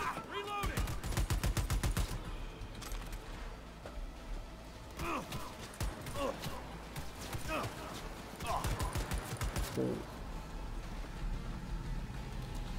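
Heavy MA70 HB light machine gun from Cyberpunk 2077 firing in bursts, with a loud rapid volley at the start and several shorter bursts later, under occasional speech.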